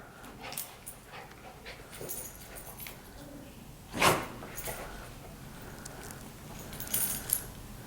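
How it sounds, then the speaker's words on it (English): A soft, brief dog bark or muffled woof stands out once amid quiet room noise, with faint jingling and light movement around it. "He was like barking a little bit."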